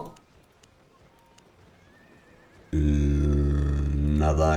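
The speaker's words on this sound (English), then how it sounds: "Another Gallant Horse." A Gallant Horse in the Albion Online game lets out a loud, close neigh that starts suddenly after a quiet stretch of faint hoof clatter and ends in a rising whinny.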